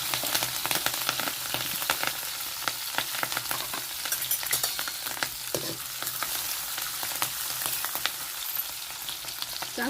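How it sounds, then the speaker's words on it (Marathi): Steady crackling sizzle of garlic, cumin and mustard seeds frying in hot oil, with continuous spitting pops and occasional stirring. "तेल चांगलं तापलंय आता मी लसूण टाकी ते लसूण टाकल्यानंतर ना एक चमचा जिरे एक चमचा मोहरी"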